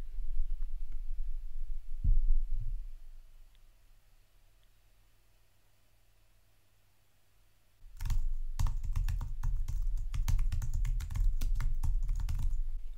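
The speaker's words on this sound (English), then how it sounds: "I might type on my computer keyboard or something" Computer keyboard typing picked up as ambient noise through a Blue Yeti X microphone in cardioid mode, a faint early tap or two, then a quiet stretch, then a steady run of light clicking keys.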